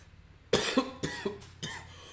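Four harsh coughs in a row, fairly close, each a sharp burst trailing off, spaced about half a second apart.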